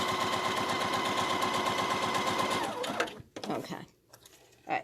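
A sewing machine stitches fabric at a steady fast rhythm for about three seconds, loud and close, then stops, leaving fabric handling and brief bursts of a voice.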